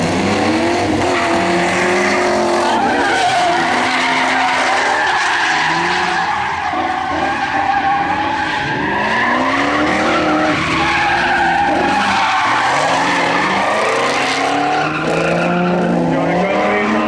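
A Can-Am drift car slides with sustained tire squeal and skidding, its engine revving and warbling in long rising and falling sweeps at a drift event, loud and fairly close throughout.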